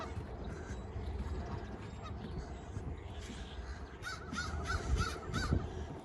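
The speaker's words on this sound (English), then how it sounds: "Lots of birds hang out over here." Birds at a city lake in Regina, with geese honking among other waterfowl and pigeons, faint and somewhat distant over a low outdoor rumble, the honks clustering toward the end.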